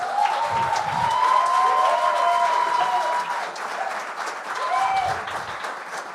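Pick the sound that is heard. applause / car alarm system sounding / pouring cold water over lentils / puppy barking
applause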